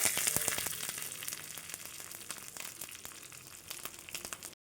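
Curry leaves and black mustard seeds sizzle in hot oil, making a loud, continuous hiss with scattered sharp crackles and pops close up, then it stops abruptly.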